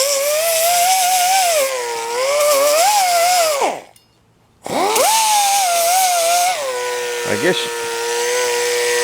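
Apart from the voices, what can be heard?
pneumatic whiz wheel cutoff tool running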